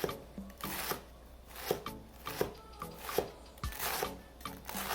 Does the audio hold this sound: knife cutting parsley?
yes